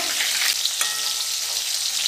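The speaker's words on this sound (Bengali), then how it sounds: "এবার খিচুড়ির সঙ্গে তো কিছু ভাজা খেতে হবে, তার জন্য এই যে কাঁকরোল ভাজা হচ্ছে" Teasel gourd (kakrol) frying in hot oil, a steady loud hiss and sizzle that runs unbroken throughout, with a brief stirring scrape partway through and no voices.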